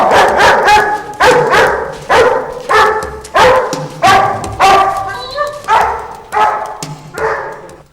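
Several dogs barking in repeated, loud, close bursts, one after another with short gaps, some yips mixed in, in a tense dramatic scene.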